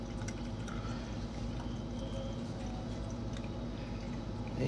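Eight ounces of coffee poured steadily into a cup, a continuous close liquid stream with light splashing and dripping that holds for several seconds without a break.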